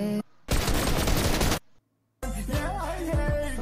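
Sniper fire in an online shooter game: a loud dense burst of gunfire noise, a sudden silence, then a further crackling shot with echoing game sounds trailing after.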